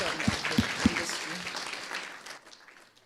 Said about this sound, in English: Can we get a round of applause for the beautiful spectrum of the industry?